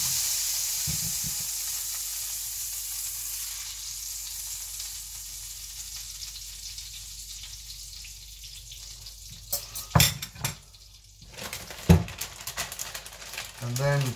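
Whisked eggs for an omelette hit a hot pan on high heat, a steady broad sizzle that slowly settles, broken by a few sharp clatters of utensils near the end.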